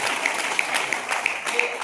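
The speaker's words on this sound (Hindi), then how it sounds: "अगेन जोरदार तालियां" Audience applause at a meeting, a short burst of energetic clapping with a few sharper individual claps standing out, moderately loud and close.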